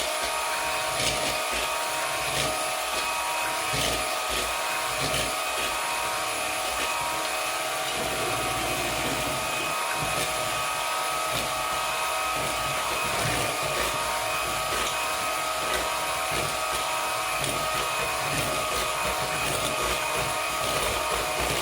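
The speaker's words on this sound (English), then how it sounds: "I'm going to start whipping my" Whipping cream beaten with an electric hand mixer for a 4th of July dessert, a steady continuous whirring motor drone held at close range throughout, with no talking.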